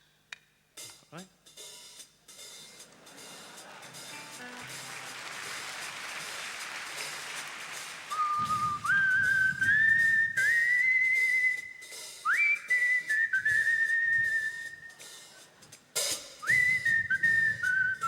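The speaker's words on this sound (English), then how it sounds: "he began whistling a tune this time" A man whistles a tune live on stage at a 1973 concert in London, clear rising and sliding notes in short phrases after a soft crowd murmur, with bursts of low band sound beneath.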